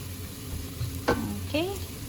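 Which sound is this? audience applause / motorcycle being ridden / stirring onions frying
stirring onions frying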